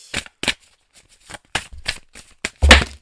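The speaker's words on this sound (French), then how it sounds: "vous me laissez tomber 2 cartes s'il vous plaît" Tarot cards are riffled and shuffled in several quick, crisp bursts separated by short pauses, ending with a sharper slap as cards drop out; close and dry, with no talk.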